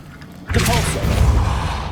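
A Depulso spell in Hogwarts Legacy goes off with a sudden forceful whoosh and thud, followed by a rumbling, clattering tail as the blast pushes outward.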